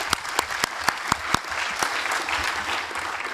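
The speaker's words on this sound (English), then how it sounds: "I would like to request you to give them a big round of applause" An audience at a conference on land rights in Africa applauds, opening with a few sharp separate claps that swell into dense, steady applause at moderate distance.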